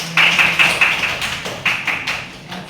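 Students clap their hands in a classroom: a quick run of roughly eight sharp, fairly close claps in an uneven rhythm, thinning out toward the end, with no talking over it.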